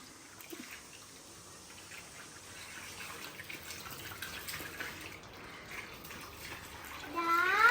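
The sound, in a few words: water filling a bathtub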